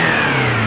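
An off-road car engine revs steadily in a racing video game, a loud, continuous modded engine drone with a strong low hum and no talk over it.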